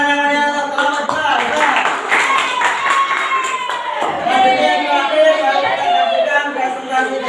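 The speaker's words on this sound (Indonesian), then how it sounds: "Tepuk tangan yang meriah untuk kelompok 2." A classroom group of students and teachers applauds a student group, with sustained clapping and some voices mixed in.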